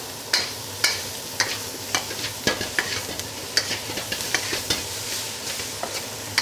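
Noodles stir-fry in hot oil in a wok, a constant sizzle broken by sharp scraping clacks of the utensil against the wok that land roughly every half second, close and loud, with no talking.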